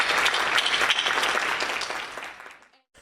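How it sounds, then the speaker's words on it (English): Audience applause at an event for congressional candidate Dr. Nadia Hashimi, a loud full round of clapping that holds strong and then tapers away to silence near the end. "I would love to give another round of applause to Nadia Hashimi for just stepping up"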